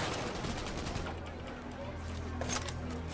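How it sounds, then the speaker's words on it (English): Gunfire in Cyberpunk 2077 cracks out in quick bursts over a low in-game hum, shots fading into steady background noise and then a bright metallic ring near the end. "Who's shooting now?"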